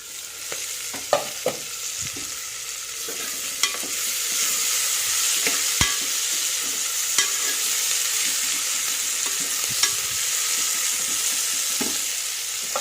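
Onion and green chili frying in a pan for vegetable fried rice: a steady, fairly loud sizzle runs throughout, broken by scattered scrapes and taps of a spoon stirring.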